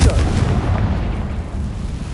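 A fiery Confringo spell blast in a Harry Potter video game, a loud, close, rumbling explosion that fills the whole short moment and rolls on with sustained low thunder.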